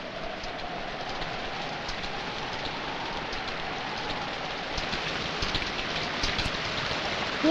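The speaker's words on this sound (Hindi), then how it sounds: "तू कब तक बारिश में भीगता रहेगा?" Steady rain falls outside near a temple, a dense, even hiss of drops spattering on surfaces, holding at the same level throughout with no voices.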